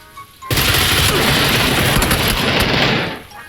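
Sustained automatic gunfire from a shooter video game bursts in loudly and rattles on continuously for about three seconds before cutting off, with no voices over it.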